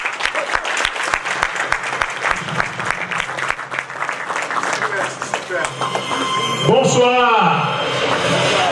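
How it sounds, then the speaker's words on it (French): Audience applause at a French comedy stage show as a performer is introduced, loud and busy clapping with sharp rhythmic claps that fades near the end, where music or a sliding tonal sound comes in. "Sous vos applaudissements"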